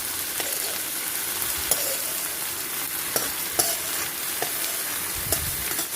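Ridge gourd pieces sizzle steadily as they fry in a pan for a curry, with occasional sharp scrapes and clicks of stirring over the constant crackle; no voices.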